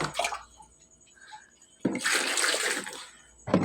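Seawater poured over crabs for re-icing, a short splash, a pause, then a loud sustained gush of pouring water close by, with another splash starting at the end.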